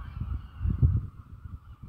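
A seagull with rings on its feet calls nearby, a loud honking, goose-like cry that swells and fades over about two seconds, with no talk.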